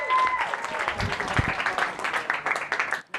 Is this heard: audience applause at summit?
yes